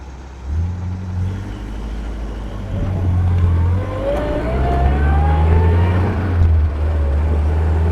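1954 Sunbeam Alpine engine pulling through its gears from inside the car, a loud steady drone that rises in pitch, drops at each shift and climbs again.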